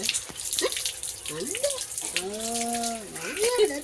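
Water runs steadily from a tap as a continuous close hiss, with voices sounding over it throughout.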